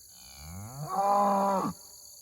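A cow with a leg injury gives one long, loud moo rising in pitch from a low groan and cutting off sharply, close by in a grazing paddock.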